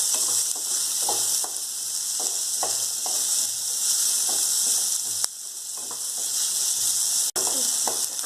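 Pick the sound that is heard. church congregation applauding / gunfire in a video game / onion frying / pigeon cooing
onion frying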